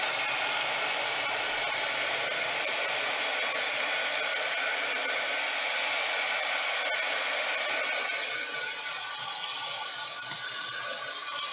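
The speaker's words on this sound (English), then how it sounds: "Let's dry it up." Hair dryer drying a handmade card, a steady airy roar running unbroken for several seconds with no voices over it.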